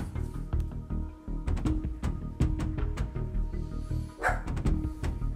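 A pet dog barks repeatedly in the background of a home setting, sharp yips and barks at irregular intervals over a steady hum of game sound during a World of Warships session.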